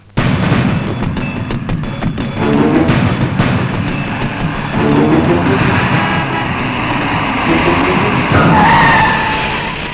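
A large lorry skidding to a halt, heard as a loud, sustained roar of engine and tyre scrub lasting several seconds, with a higher squeal rising near the end.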